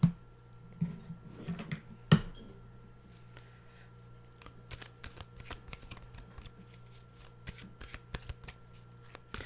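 A deck of cards is shuffled up close, with a sharp riffle burst followed by a long run of quick, crisp flicks and ticks.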